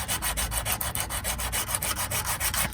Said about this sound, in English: to get some sandpaper and just rough and clean the shoes